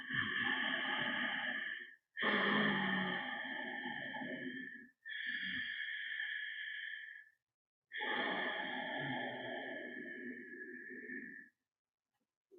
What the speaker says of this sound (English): you create this sound when you're breathing. It's like a little bit of an audible hiss.